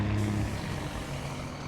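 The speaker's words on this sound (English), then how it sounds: "dump truck" A dump truck rolls past on a small-town street, its low diesel rumble steady and fairly loud for a couple of seconds before easing slightly.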